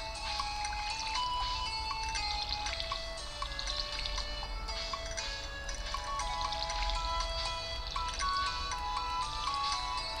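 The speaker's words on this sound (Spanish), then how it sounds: "Lo único que hay que hacer es ponerle agüita a las plantitas" Crops being watered in the farming video game Stardew Valley: soft, faint splashing trickles of water repeat beneath a bright, tinkling melodic game soundtrack.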